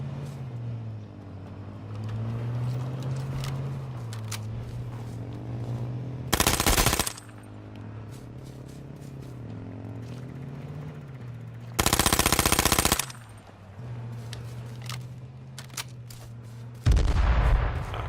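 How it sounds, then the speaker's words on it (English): Gunfire in the battle royale game H1Z1 comes in three dense, loud bursts of rapid automatic shots. Between them a vehicle engine drones and shifts pitch, and a few scattered single shots sound further off. "Who's shooting me?"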